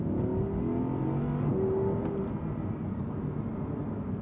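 An Audi R8 V10 with a 7-speed transmission accelerating, a loud, steady engine roar with rising tones as it pulls through the gears, heard up close.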